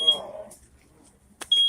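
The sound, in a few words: fire alarm going off from burnt food in broiler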